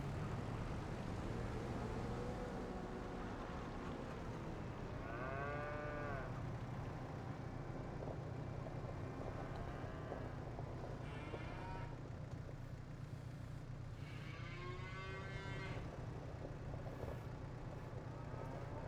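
Cattle mooing in the Farming Simulator 25 video game, several drawn-out moos rising over a steady low farm and machinery hum, near and moderately loud, with no talk.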